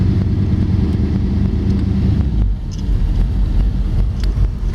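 A 1956 Chevy Bel Air two-door hardtop resto mod driving, its engine giving a steady, loud low rumble that dips briefly partway through, with some wind noise and no talk.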